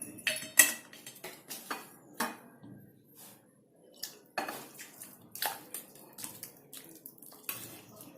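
Capsicum curry made from two large capsicums is spooned from the cooking pan into a bowl, with scattered metallic clinks and scrapes of a spoon against cookware, close and intermittent.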